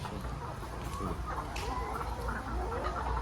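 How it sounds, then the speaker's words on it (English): Broiler chickens cluck and murmur inside a poultry house, a steady layered chatter of many birds at moderate distance with no talking. "To show them to see how my birds are doing."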